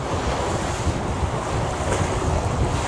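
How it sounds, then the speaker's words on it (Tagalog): Very strong wind roaring by the sea, a loud, steady blast buffeting the microphone over the rush of waves and surf, with no talk. "Sobrang lakas ng hangin dito."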